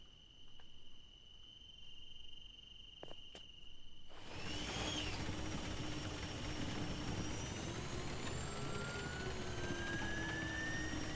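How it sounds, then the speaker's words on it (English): In the video game Foxhole, a vehicle engine with a supercharger starts up after a few quiet seconds of ambient insect-like tones, then holds a steady drone with a thin, high whine that rises slowly in pitch, moderately faint. "the sound mod makes it where you can hear that supercharger"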